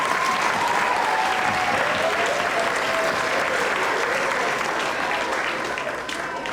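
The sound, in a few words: audience applause for retiring school staff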